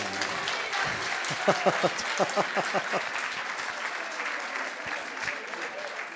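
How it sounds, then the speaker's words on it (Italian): Audience applause at a concert at Caesar's, a crowd clapping steadily with a few rhythmic, louder claps standing out in the middle, with voices mixed in. "rifatemi un applauso che non vi ho sentito mica"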